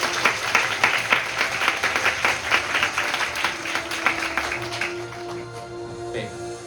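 Dense crowd applause from the audience at a Korean student Model UN opening ceremony, loud and steady for about five seconds, then tapering off into scattered claps and room murmur.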